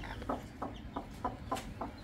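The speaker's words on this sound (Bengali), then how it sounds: "এগুলা হইছে মাহফুজের মুরগি বসায় দিছে," Brooding hens sitting on eggs give soft, repeated clucks, about six short calls in an even rhythm against a low steady background, close by and moderately quiet.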